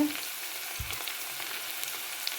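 Onion fries in oil in a pan for a fish curry, a soft, steady sizzle with one low thump as it goes in and light crackles, close and fairly quiet.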